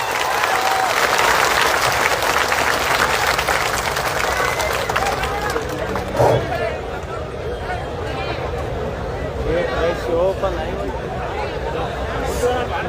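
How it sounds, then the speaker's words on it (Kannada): A crowd at a farmers' association gathering applauds loudly to welcome a guest, with dense clapping that starts strong and eases slightly in the second half, mixed with crowd murmur. "ಜೋರಾಗಿ ಚಪ್ಪಾಳೆ ಮೂಲಕ ಸ್ವಾಗತ ಮಾಡಿಕೊಡ್ರಿ"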